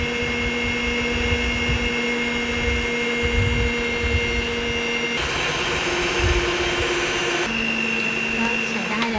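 An electric mixer runs at low speed while flour is added for Thai khanom khai batter, producing a constant whirring hum that shifts in pitch midway as the speed is changed, with someone talking over it.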